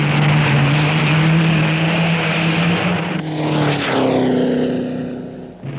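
Early Chevrolet racing cars roar past on a vintage motor racing track, a loud droning engine note that swells, then sweeps down in pitch as a car passes close by.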